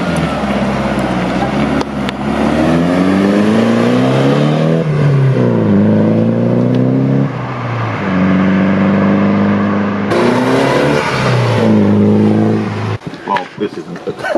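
A 1965 Datsun Fairlady Roadster converted to an SR20 engine revs loudly and up close, its pitch climbing and dropping in repeated sweeps before cutting off into a brief rattle near the end.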